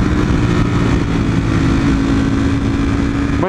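A motorcycle cruising in a low gear on a cold ride, its engine droning at a steady, even pitch close to the rider with wind rush over it, no voices.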